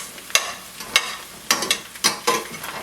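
A utensil scrapes and stirs Brussels sprouts with Kirkland bacon bits in a pan, giving sharp, irregular clatters roughly every half second over a faint, steady sizzle, close and alone.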